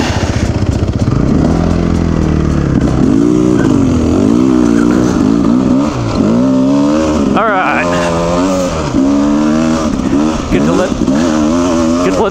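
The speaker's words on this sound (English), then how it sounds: "Let this bike go a little bit." Motorcycle engine revving and surging in wavering pitch while being ridden through slick snowy mud, loud and close throughout, with a rider's voice briefly mixed in.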